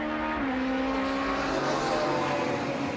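Onboard a GT2 class race car driven by champion Dwayne Davis through the carousel corner at the SCCA National Championship Runoffs 2003, the engine hums loud and close at a steady pitch, rising slightly, with no voices.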